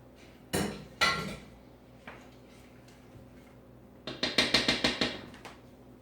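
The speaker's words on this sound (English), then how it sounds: "Stir that up in there." A spoon knocks against the inside of a crock pot while beef and bacon are stirred: a few separate clunks, then a quick run of about eight sharp ticking taps, close and alone.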